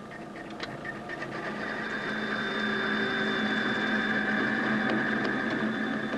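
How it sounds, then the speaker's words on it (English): A lathe hums steadily while a high, sustained whine and faint rattling build as the cutting tool chatters against the workpiece. "The noise you hear tells us the cutting tool is vibrating."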